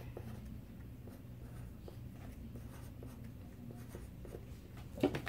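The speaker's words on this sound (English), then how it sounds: "That's how you draw Paper Brian" A pencil drawing on paper, a soft, steady scratching and scribbling with small irregular strokes, close and quiet against a low background hum, with a sharper tap near the end.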